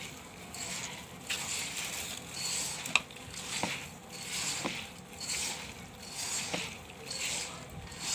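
Khichuri is stirred in a pot with a spoon, giving soft, rhythmic scraping and squishing swishes that repeat in regular strokes. A sharp tap sounds once, and the whole is fairly quiet and close.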